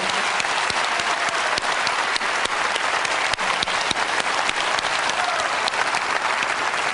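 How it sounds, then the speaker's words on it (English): An audience at a 2005 product launch event gives a guest another round of applause, with sustained loud clapping filling the hall from start to finish and only faint voices beneath. "let's just give him another round of applause"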